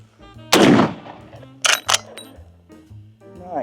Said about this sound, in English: You know, I was having a failure to eject, and looks like it's working now.